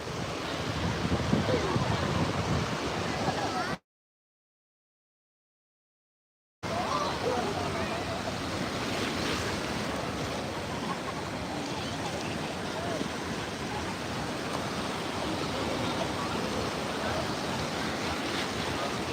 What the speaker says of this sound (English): The waves are pretty mild today,